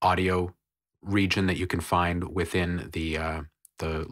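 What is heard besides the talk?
None of the usual background noises is heard.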